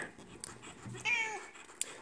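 A house cat meows indoors, with a short cry rising then falling near the middle and a brief sharp sound at the end, heard fairly close against a quiet room.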